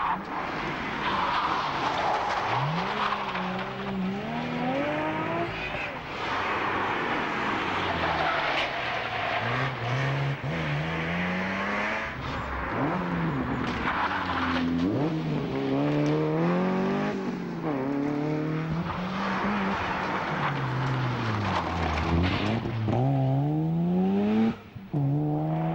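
Rally cars from the 1998 Targa Tasmania tarmac rally charge through Hobart streets, engines revving hard with repeated rising and falling gear changes and brief tyre squeal, loud and continuous throughout.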